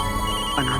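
A telephone ringing in a Hindi TV serial scene: a short electronic ringtone, steady and fairly loud, heard alone for under a second.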